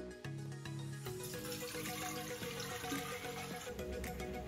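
Water pours and runs into a pot for boiling boba pearls, a steady close splashing stream over soft background music and no speech.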